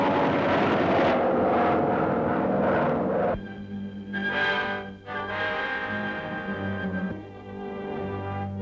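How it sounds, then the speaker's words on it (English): Aircraft engine drone from a German Messerschmitt ME-163 rocket plane in flight, a loud, steady roar that shifts in tone as it passes, with no voices. "Germany's bat-like rocket planes, the ME-163."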